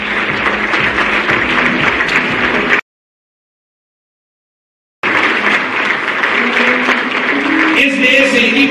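An audience at the Cruz Azul uniform presentation applauds in a steady, dense clatter that breaks off completely for about two seconds and then resumes with equal strength.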